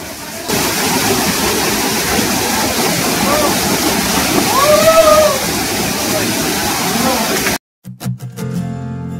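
A hidden waterfall at Santook in Kalimpong roars in a steady, loud rush of falling water that fills the scene, cutting off abruptly near the end, where a few short clattering sounds follow.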